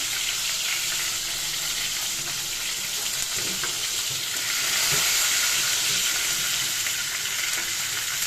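A hilsa fish head fries in hot oil with a steady, dense sizzle and hiss that runs unbroken throughout, close and even, with faint clinks underneath.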